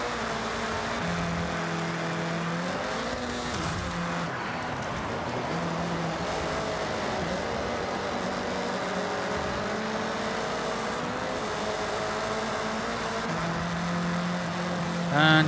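A car engine in Forza Horizon 6 racing, its pitch climbing and falling through rev sweeps and gear changes, held steady and loud for the whole stretch without any talk.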